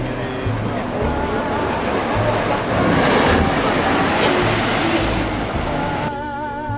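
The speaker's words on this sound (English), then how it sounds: "Next, the local blowhole." Surf surges and roars around an ocean blowhole on a French Polynesian shore, a loud continuous rush of water and wind noise that swells in the middle, with a voice briefly heard near the end.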